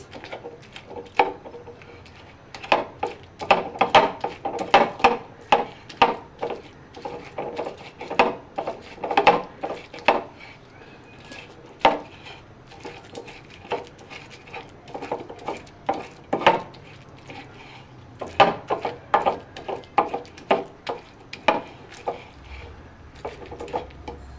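Ridge gourd, shrimp and potato mashed by hand for bharta, giving irregular close knocks and squelching thuds against a bowl or plate, in uneven bursts with short pauses.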